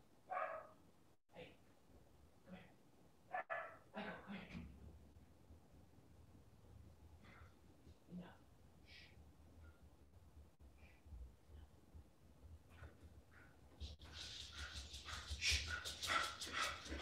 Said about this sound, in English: I gotta stop this dog. He's going crazy.